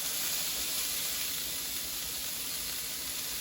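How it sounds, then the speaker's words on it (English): Green peppers sautéing in a hot pan for an omelette, a steady bright sizzle with a hissing, steamy texture, constant and close, with no speech. "we just want to saute our little vegetables that we have"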